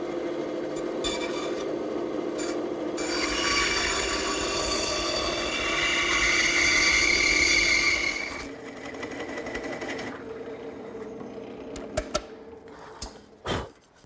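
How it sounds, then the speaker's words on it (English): A bandsaw tipped to 45 degrees makes a rough cut through a wooden blank for a pedestal table, with a loud, steady rasping hum for about eight seconds before the sound drops to a lower running whir and a few knocks. "I've tipped my bandsaw to 45 degrees,"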